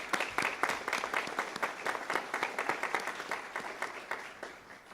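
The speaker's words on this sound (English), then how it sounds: "I'd like to give them a round of applause for their work." An audience at a town hall meeting on public safety applauds for a few seconds, with quick, distinct claps from a modest crowd in a room, loud at first and tapering slightly.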